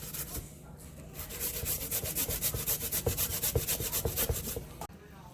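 Ginger being grated by hand on a grater for old-fashioned Jamaican carrot juice, a steady series of close, rhythmic rasping strokes that quicken midway, with no talk.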